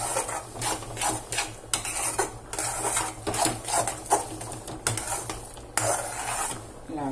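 A sesame ball mixture is stirred in a pot, with a spoon scraping and clinking against the metal in an uneven rhythm over a low steady hum.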